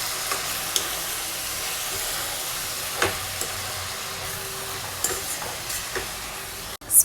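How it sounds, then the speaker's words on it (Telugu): Spring onions, curry leaves and green chilli frying in a pan, a soft continuous sizzle and hiss broken by a few scraping stirs, close and fairly quiet, with a clatter at the end. "స్ప్రింగ్ ఆనియన్ అన్నీ కూడా ఇలా మధ్య మధ్యలో మిక్స్ చేసుకుంటూ ఫ్రై చేసుకోవాలండి."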